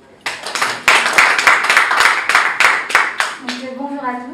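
Rhythmic clapping from a press-conference audience greeting a singer, a burst of sharp, roughly regular claps that starts abruptly and runs close and loud, then a voice begins speaking as the claps thin out at the end.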